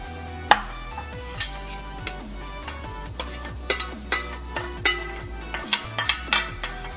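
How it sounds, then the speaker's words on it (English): A spoon stirs salted vegan ingredients together in a bowl, giving a steady run of light clinks and scrapes that grow busier toward the end, close up with no talking. "Stir it all together."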